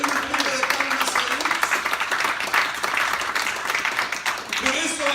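A church congregation breaks into sustained, dense applause after a call to clap during a sermon, while voices carry on over the clapping throughout.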